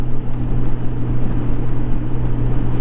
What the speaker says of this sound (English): I'm riding Big Red, my 2016 Honda Goldwing. And I am on the highway right now